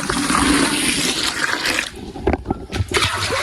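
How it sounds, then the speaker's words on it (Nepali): Water gushes loudly and steadily into a household container, then thins into gentler splashing and trickling, all close to the microphone. "पानी त आइरहेछ।"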